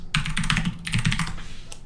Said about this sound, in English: Let me use my super loud keyboard